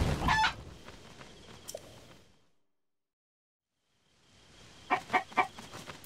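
A cucco chicken clucks in the video game Zelda: Tears of the Kingdom, with a burst of clucks at the start, a lull into near silence, then several sharp, close clucks toward the end.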